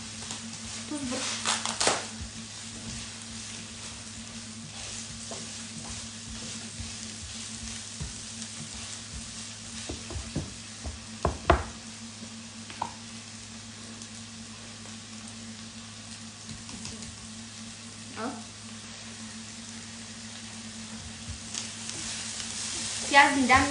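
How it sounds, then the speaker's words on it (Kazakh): Onions frying in hot oil in a pan, a steady soft sizzle running throughout with occasional stirring clatters and scrapes. "Пияздың дәмін келтіріп қуырып алайық, содан кейін картошкасын саламыз."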